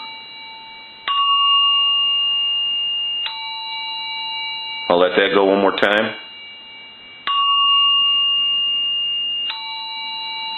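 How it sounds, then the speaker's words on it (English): A Western Electric telephone ringer converted to chime mode sounds repeated two-tone ding-dong chimes that ring clearly and decay slowly. Someone speaks briefly between the chimes. "Then I'll put it over into the chime mode."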